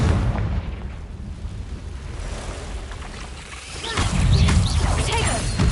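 A Confringo fire spell bursts with a deep rumbling boom in Hogwarts Legacy, rolling beneath a wind-like whoosh before a second, louder surge near the end.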